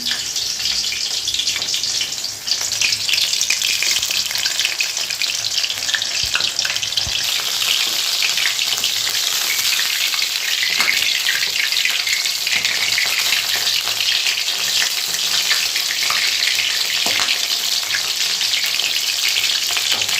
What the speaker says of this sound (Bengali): শাপলার মধ্যে জল থাকে না, তাই জলবল করে আওয়াজ হচ্ছে।